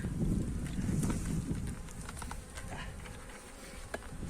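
Honeybees buzz in a steady low drone while a six-frame colony is moved into a new hive, with faint wind noise over the microphone and occasional brief clicks.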